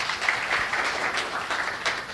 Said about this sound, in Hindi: मोहम्मद नियाज भाई के लिए एक बार तालियां।